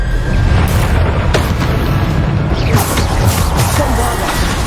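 Spell blasts in Hogwarts Legacy combat, including the Bombarda explosion, boom loudly and continuously over a dense rumbling battle mix, with repeated bursts and a voice shouting spell names throughout.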